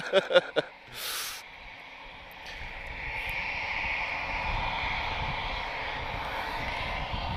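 A Turkish Airlines A321neo with Pratt & Whitney engines arriving at Lisbon Airport, heard as a broad, steady jet roar that swells and holds after a few brief knocks at the start.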